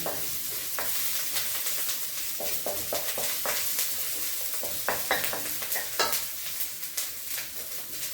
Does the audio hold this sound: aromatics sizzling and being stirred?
yes